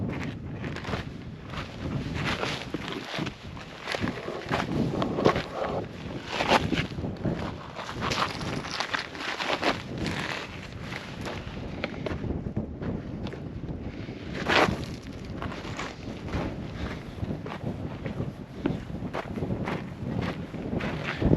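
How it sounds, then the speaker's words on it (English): Gusting wind buffets the microphone on a mountain hiking trail, a loud, continuous rushing roar that swells and eases, with footsteps faintly underneath. "And now we're back into the trees, which is nice because it blocks so much of this wind."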